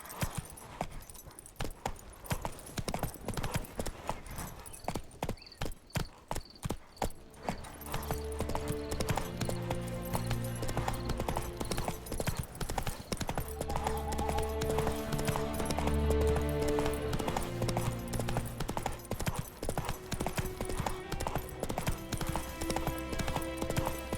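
Hooves of Roach, a horse in The Witcher 3, clip-clop in a fast, continuous galloping rhythm, close and loud, with bits of tack jangling, occasional whinnies and a game music score underneath.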